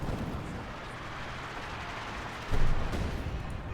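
Heavy mortar fire in Company of Heroes 2: a steady rumbling battle bed of distant booms, with one louder thudding blast near the end that trails off.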